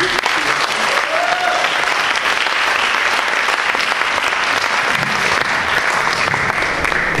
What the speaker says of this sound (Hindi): एक बार जोरदार तालियों से अपने शहर के चहेते कलाकार अंकुर का स्वागत कीजिए